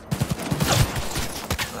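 Bursts of gunfire from new weapons in Cyberpunk 2077, a quick string of loud, punchy shots in a rough rhythm with some overlapping reports, close and dominating.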